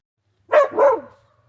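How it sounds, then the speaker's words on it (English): A lost dog outdoors during monsoon season gives two quick, close barks in a row, the second slightly longer, against otherwise quiet surroundings. "No bark, Owen."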